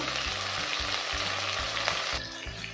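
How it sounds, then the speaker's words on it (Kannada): Ginger, garlic, cloves, cinnamon, coriander and mint fry in hot oil, giving a loud, steady sizzle with rhythmic thumps and scrapes of stirring close by. "ಎಲ್ಲ ಸಾಫ್ಟ್ ಆಗೋರ್ಗು ಚೆನ್ನಾಗಿ ಫ್ರೈ ಮಾಡ್ಕೋಬೇಕು"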